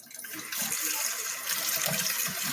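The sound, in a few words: tap water running into pot for macaroni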